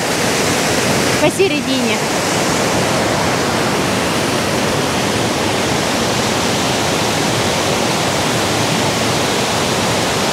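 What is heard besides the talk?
Todtnau waterfall, southern Germany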